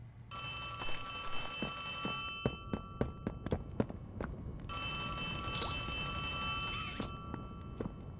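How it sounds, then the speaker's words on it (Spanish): A telephone ringing in the video game Poppy Playtime Chapter 3, a shrill electronic bell ringing in long steady bursts with gaps, joined by a run of sharp thuds and knocks partway through. "Teléfono. ¿Dónde?"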